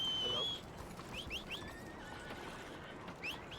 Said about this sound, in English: eu fui pegar o cavalo